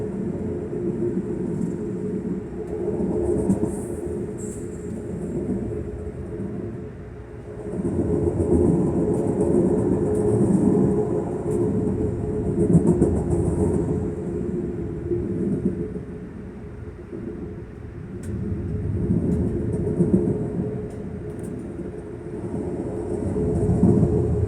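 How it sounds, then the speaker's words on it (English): A long freight train rushes southbound right alongside a stopped Amtrak train, a close, continuous heavy rumble that swells and eases over its length with no voices. "we were waiting on this freight train to pass southbound"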